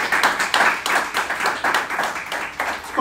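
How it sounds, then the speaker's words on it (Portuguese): A church congregation claps in unison, each rhythmic burst of hands close and loud, sustained steadily for several seconds with faint voices mixed in. "aplauda ao Senhor com o seu melhor"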